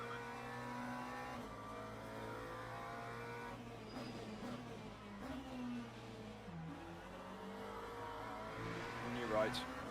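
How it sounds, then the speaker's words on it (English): An LMP2 prototype race car in the Le Mans Ultimate sim racing game approaches at Sebring, its engine note climbing and shifting through gears under a steady hum of other car engines, with someone talking over it. "Okay, LMP2 coming."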